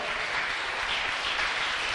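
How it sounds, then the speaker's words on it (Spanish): A church congregation applauds in a soft, dense, continuous wash of clapping that holds evenly for the whole stretch, heard at a distance. "¿Cuántos pueden dar un aplauso al Señor por su palabra?"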